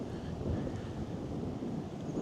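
Steady wind buffets the microphone outdoors during a DJI Flip drone flight, a constant low rumbling roar with no talk.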